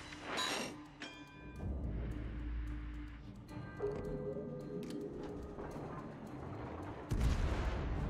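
Naval gunfire from warships in the World of Warships game during a clan battle: booming broadband blasts near the start and a heavy burst near the end, over continuous low engine and ambient rumble.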